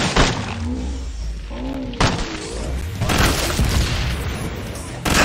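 Heavy grenade booms in Killing Floor 2, several loud explosive thuds with crackling debris spread across a few seconds, mixed with game voice lines.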